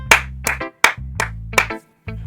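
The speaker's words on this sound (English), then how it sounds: "I will applaud this." Short, crisp claps from the Doki Doki visual novel game, five or six evenly spaced slaps over a low sustained musical tone that stops and restarts between bursts.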